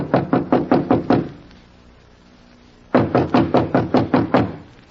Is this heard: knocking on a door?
yes